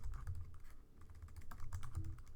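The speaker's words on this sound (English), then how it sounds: "My typing is not good at all." Rapid, uneven keystrokes clatter on a computer keyboard while a user enters input into a Java program being run, close and continuous, with no voices over the tapping.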